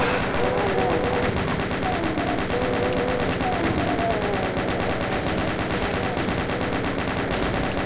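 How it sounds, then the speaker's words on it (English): Rapid chain gun fire in Ultimate Doom, a continuous dense burst of shots with no pause, loud and close, mixed with game sounds and a voice talking over it. "Chain gun!"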